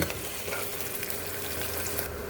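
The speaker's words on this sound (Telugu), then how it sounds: "ఆనియన్స్, పచ్చిమిర్చి వేసుకుందాము. వేగుతుందండి." Onions and green chillies fry in a little oil in a pressure cooker, making a soft, continuous sizzle at low level throughout, with no voices over it.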